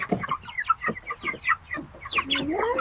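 Backyard urban chickens cluck close by in quick, uneven bursts, overlapping calls continuing throughout with a rising squawk near the end.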